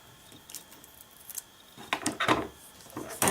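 A cellophane bag is torn open at the top by hand, giving a few crinkly rips and rustles that grow louder and denser toward the end, close to the microphone with no voices.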